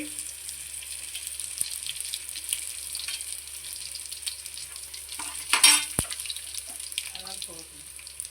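Garlic cloves hit hot oil in a pan and sizzle, a steady hissing fry with a brief louder burst partway through and light stirring clatter, recorded close up, while cooking ajwain java.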